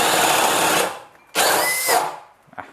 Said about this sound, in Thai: ถ้าเจาะทีเดียวครับ โดยที่แบบว่ากดไ ปทีเดียวนะ ก็จะเห็นได้ว่ามันก็จะมีอาการติดหรือว่าดับอยู่นะครั บ